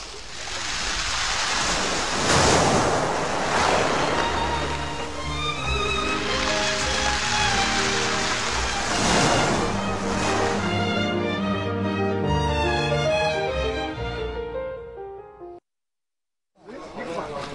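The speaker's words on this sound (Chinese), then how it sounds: "当它退却的时候，这个卵石就会滚动， 发出那种刷刷啦啦的声音，" Sea waves wash over a pebble beach at Houchetang port, Shenjiamen, Zhejiang. Each retreating surge drags black pebbles into a loud, rolling rattle and hiss, close up and continuous, before it cuts briefly to silence near the end.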